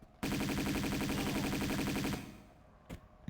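Rapid automatic gunfire aimed at an enemy in Tomb Raider II Remastered, a loud close burst of fast even shots lasting about two seconds, then it stops, with one more faint crack a moment later.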